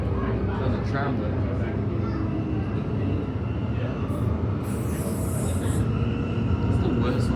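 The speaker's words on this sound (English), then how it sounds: "There's a tram there." A tram rumbles past at a station in Noranda on Perth's Ellenbrook Line, a steady broadband roar of wheels and motor holding level for several seconds, with voices talking over it.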